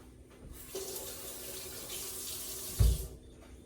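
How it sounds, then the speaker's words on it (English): Tap water runs steadily into a sink while hands rinse under it, a close splashy stream ending with a brief clunk. "And let me rinse my hands."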